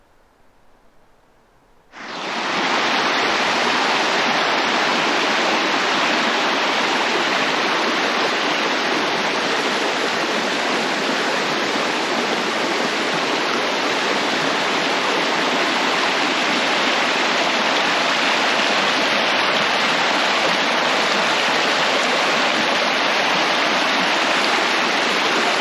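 Spring groundwater from a sand esker at Meilleur's Bay in the Ottawa Valley pours into a creek, a steady, loud, broadband rush that starts abruptly after a brief quiet moment and runs unbroken, with no voices.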